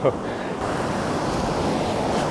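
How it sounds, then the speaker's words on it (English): Strong onshore wind of about 25 mph with ocean surf on the coast, a steady loud roar of crashing waves and buffeting wind noise on the microphone throughout, with no talking. "We have 25-mile-an-hour winds straight on shore, and that really makes it tough."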